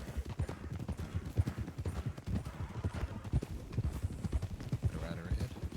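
Horse hooves clip-clop in the RedM western video game, a busy, irregular run of muffled thuds from one or more horses, steady throughout, under a low rumble of movement.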